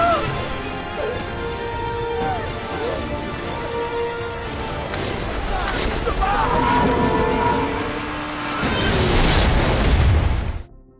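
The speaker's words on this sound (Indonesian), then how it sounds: "Kapal itu pun kemudian meledak," A ship blows up in a zombie film, with a deep rumbling boom and crashing debris that build to a loud final burst, under continuous dramatic film audio.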